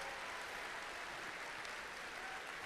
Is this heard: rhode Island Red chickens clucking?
no